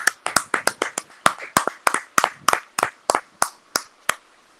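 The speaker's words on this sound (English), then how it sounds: "A round of applause for you all." A small school audience at an inter-house spelling bee claps in a thin, uneven patter of distinct hand claps, fairly close and not very loud, with no talking over it.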